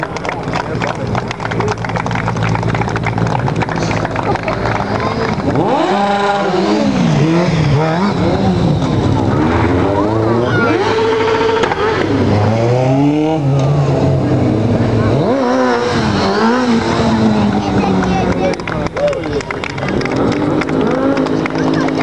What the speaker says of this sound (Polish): Oczywiście będą tutaj kręcić tymi motocyklami, palić gumę.